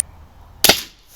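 A single sharp RTI Prophet air rifle shot, tuned after an air leak fix, cracks loud and close, firing the last pellet of the magazine with a brief fading tail.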